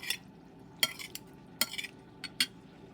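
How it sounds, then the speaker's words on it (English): Tuna macaroni salad being stirred and mixed in a bowl, a few soft scraping clinks of a utensil against the dish at irregular intervals, close and fairly quiet with no talking. "And so we mix that up like so."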